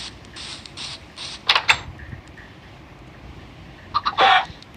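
Chickens in the video game Minecraft giving a few short clucks and squawks, bursts spaced apart over a quiet background, no talking.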